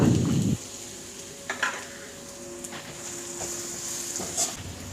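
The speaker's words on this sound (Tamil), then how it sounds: "வெங்காயம் கொஞ்சம் வதங்கிறதுக்கு உப்பு போட்டுக்கோங்க. பூண்டையும் ஆட் பண்ணிக்கோங்க." Onion, salt and garlic fry softly in a pan, a low sizzle with a few stirring scrapes and utensil knocks, close and fairly quiet with no talking.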